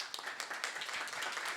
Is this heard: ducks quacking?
no